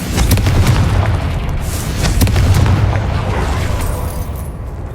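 Repeated Confringo blasting curses exploding in Hogwarts Legacy, loud booming blasts layered over a continuous roar for several seconds, close and dense with sharp bursts.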